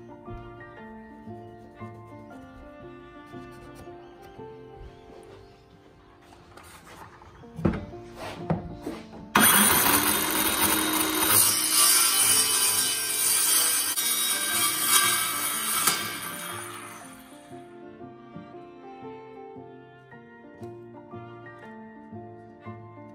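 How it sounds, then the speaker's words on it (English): A saw cuts through the wooden center stringer of a plywood stand-up paddleboard being fitted with a sail mast support, a loud, dense burst of sawing lasting several seconds after a few knocks, then fading into quiet. "I'm going to cut the center stringer here"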